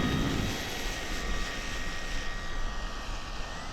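An Air Tractor RC model agricultural plane makes a slow pass with a steady engine and propeller drone, constant and fairly faint throughout, with no voices.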